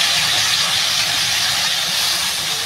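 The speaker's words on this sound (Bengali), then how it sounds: "বন্ধুরা আমি এবার ঝোল দিয়ে দেবো।" Broth poured into a hot pan of cucumber fried in oil, giving a loud, steady steaming hiss and sizzle that holds strong and unbroken throughout, with no talking.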